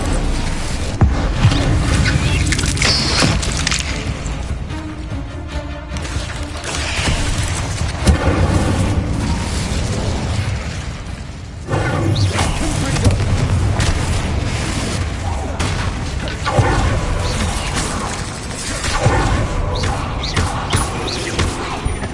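Bombarda explosion spells in a Hogwarts video game unleash a continuous barrage of loud, rumbling booms and crashing blasts that fill the whole stretch without letup.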